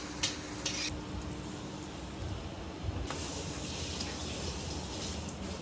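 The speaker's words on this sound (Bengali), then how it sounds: "ভাজা পিঠে হচ্ছে।" Rice cake pitha frying in oil, a steady soft sizzle filling the background with occasional clinks and stirring sounds, moderately close and with no talking.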